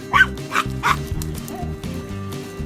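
A Chihuahua scuffles with a larger dog, letting out three quick, sharp yaps and then a run of lower growly barks and whimpers, close and loud, over a steady electronic hum.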